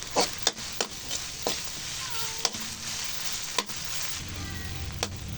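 Canned ground meat sizzles in a pan over medium-high heat for pakbet while a spoon stirs it, scraping the pan at irregular intervals over a steady frying hiss.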